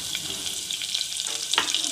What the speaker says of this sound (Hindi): अब मैं इसमें डाल रही हूँ लहसुन और प्याज